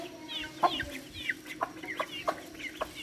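Duck chicks peep in quick, high, chirpy calls that repeat close by, with a faint steady background hum.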